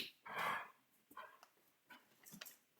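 Dogs barking in short separate bursts, a louder bark near the start followed by several quicker yips and barks, at moderate distance with no talk over them.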